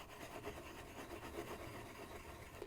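Chicken meatballs roll and rattle in flour on a plate, giving a steady close scraping rub with a soft repeating rhythm.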